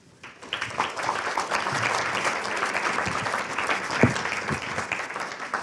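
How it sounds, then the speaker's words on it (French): A colloquium audience breaks into applause as round-table panelists come up onstage, the clapping swelling quickly from near silence into a dense, steady roar that holds for about five seconds, with a louder clap or thump near the end. "On les applaudit,"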